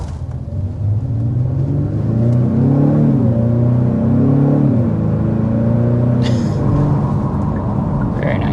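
A Genesis G70 sport sedan with an 8-speed automatic pulls hard under acceleration, its engine note climbing in a steady loud drone, dipping briefly at a quick upshift around the middle, then rising again.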